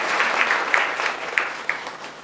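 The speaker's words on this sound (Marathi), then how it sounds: "जोरदार टाळ्या झाल्या पाहिजेत सारिका मॅडमसाठी" Steady audience applause for a woman poet at a poetry recital event, dense clapping with a few sharper claps standing out, moderately loud and continuous with no talk.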